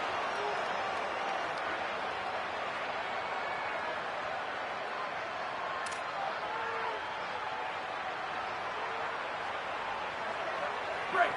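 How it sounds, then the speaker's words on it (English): Hostile stadium crowd at a Boise State vs Oregon college football game, a dense, steady roar of distant fans filling the background under a commentator's voice, with a brief whistle-like burst midway. "The crowd is making it hard, though."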